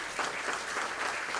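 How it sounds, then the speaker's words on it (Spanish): Warm audience applause at an academic lecture in Peru honoring the national elections jury, dense steady clapping from a crowd, brief and even. "la confianza institucional en el Jurado Nacional de Elecciones, para quien pido un aplauso cariñoso"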